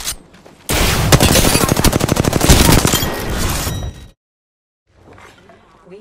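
Gunfire in the battle royale video game Apex Legends, a rapid automatic burst of evenly spaced shots running about three seconds, loud and close, then silence and a faint trailing sound.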